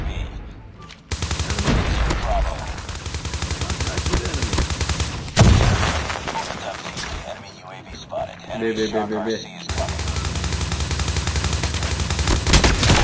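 PP19 Bizon submachine gun firing in Call of Duty Mobile, long bursts of rapid crackling automatic fire that pause briefly and resume, loud and close, with someone talking over it.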